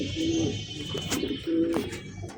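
A pair of Rabeji pigeons coo in two clear, low bursts, each a steady throaty call, close by with a faint background hiss.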